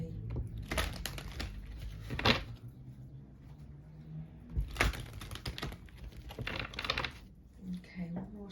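Oracle cards being shuffled by hand, a few quick papery riffling bursts spread through the clip with a voice talking over them between shuffles.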